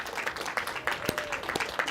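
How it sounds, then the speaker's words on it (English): An audience gives photographer Andrew Scrivani a short round of applause at an evening book event, with light, scattered clapping at moderate volume. "If we can give him a warm applause for Andrew."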